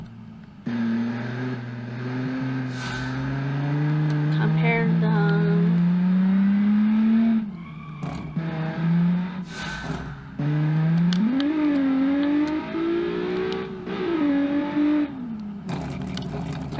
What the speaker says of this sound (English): how fast the 201 horsepower race car will be